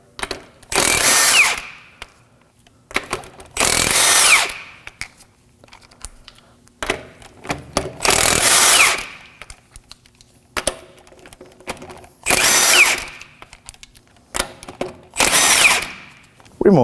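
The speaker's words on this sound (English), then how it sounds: "using a 19mm socket, we're going to remove the tire." A power tool with a 19mm socket spins lug nuts off the front left wheel of an Acura MDX, five loud close bursts of whirring a few seconds apart with quiet gaps between them.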